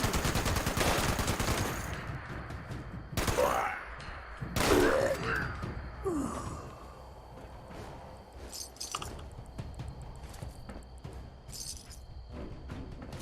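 A big gun firing in the game Fallout 76, loud bursts of rapid gunfire with sharp blasts and shattering crashes, fading into sparser shots and clatter later on.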